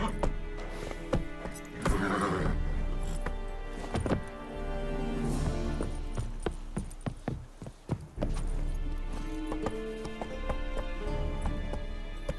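Hooves of Geralt's horse Roach clip-clop at a steady gallop through The Witcher 3, loud and continuous with rolling rhythm, a whinny rising briefly near the start over the game's ambient score.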